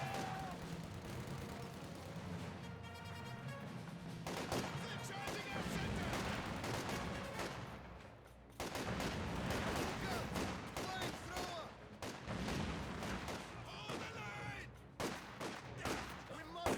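Rifle gunfire in the Company of Heroes 2 video game as grenadiers fire on penal troops, steady battle volleys and rattling shots layered with game sounds and a talking commentator throughout.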